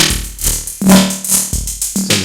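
SUPERFREQ modulating delay pedal with its feedback boosted, producing loud repeating swells that stack and smear into one another in a pulsing, rhythmic wash of echoes over about two seconds.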